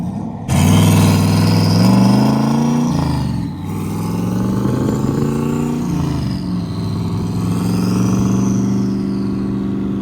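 A turbocharged LS1-swapped BMW E46 accelerates hard from a street traffic light, its loud, close engine note climbing steadily, dipping briefly at a shift, then rising again for the full stretch.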